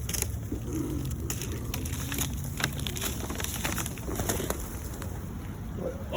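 Pigeons gather close while being fed outdoors in cold snowy surroundings, soft cooing and rustling wing flutters over a steady low background rumble.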